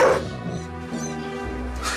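A dog gives a brief burst of close, whiny barking and yelping, with a tonal whimper running through the short sound.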